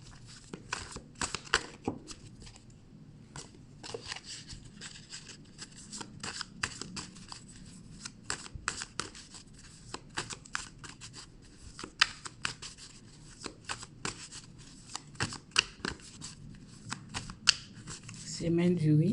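Tarot cards shuffled by hand for a cross spread, a long run of quiet, close riffling and tapping bursts in irregular rhythm, with soft talking at moments.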